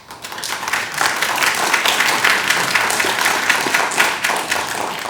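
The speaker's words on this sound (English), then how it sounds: "I'll just remind you about the ground rule, please, of no applause." An audience at a public meeting about a creek trail claps in a steady, dense round of applause that rises quickly and holds loud for several seconds, with no speech over it.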